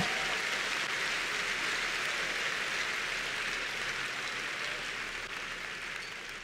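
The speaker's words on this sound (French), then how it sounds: "Give the Lord a big hand of praise." A church congregation applauding in praise, steady, dense clapping from a large crowd that holds evenly and fades slightly toward the end.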